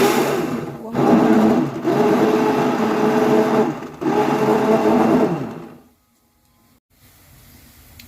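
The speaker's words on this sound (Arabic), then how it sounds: "هنا بقى هاجي بالهاند بلندر" A hand blender whirs loudly in several bursts separated by brief pauses, then cuts off, leaving near silence and faint room noise.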